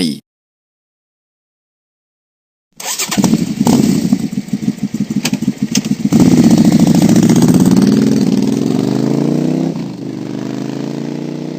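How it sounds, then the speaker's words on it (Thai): A motorcycle engine fires up after a brief silence, then runs loud and steady with revving bursts before settling into a lower idle. "เสียงปริศนาที่5เสียงมอเตอร์ไซค์"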